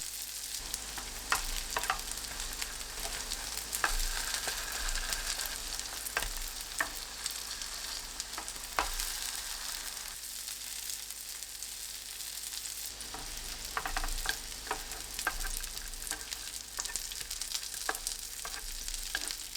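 Eggplant and tofu patties pan-fry slowly over low heat, a constant gentle sizzle with scattered crackles and pops holding steady for nearly twenty seconds, near and unaccompanied by speech.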